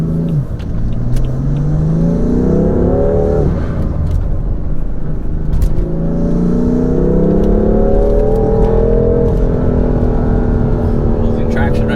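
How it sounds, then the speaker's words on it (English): A BMW M3 with new intakes running at wide open throttle, its loud engine and exhaust note rising in revs, dropping at a shift, then climbing again, with a whirring spool buried under the roar. "in wide open throttle, the engine noise, the exhaust note drowns out the spool"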